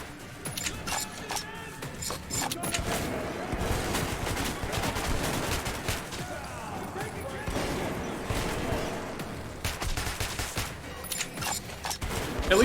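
Dense, sustained gunfire rattles through a Metro 2033 firefight, with rapid bursts and repeated shots filling the whole stretch loudly, under occasional talk.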